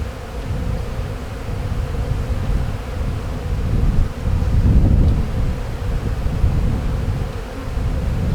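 A dense, steady drone of honey bees buzzing around an open hive during an inspection, close to the microphone, swelling slightly midway, with some wind rumble mixed in and no talking.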